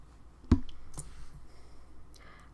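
A computer mouse gives a sharp, close click, followed by a softer second click and faint quiet handling noise.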